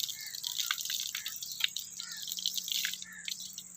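Cold water pours and splashes from a well-known hand pump at Taunsa Mor in Muzaffargarh, a close, continuous bright trickle with dripping spatters and no talk.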